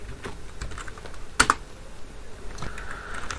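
Someone types code on a computer keyboard, producing a few separate clicks with one sharper, louder keystroke in the middle. The taps are close and isolated, with gaps between them.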